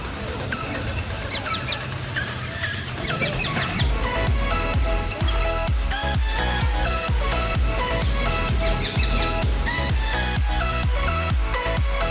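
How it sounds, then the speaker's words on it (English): Bird calls and clucking rise over a dense, rhythmic background of music during monsoon rain in Vasai East, India, with bright chirps scattered through the stretch. "even outside you can hear a lot of birds flying around and"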